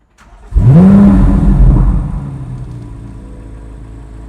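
A Chevrolet Corvette C8 Z06 starts up with a sharp crank and a loud rising roar, then the engine settles into a deep, steady idle rumble, close and alone.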